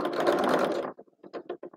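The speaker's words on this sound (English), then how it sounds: "So we put them right sides together and we stitch." A sewing machine stitching fabric pieces right sides together, a close dense whirring burst followed by a few slower, stuttering stitches that stop and start.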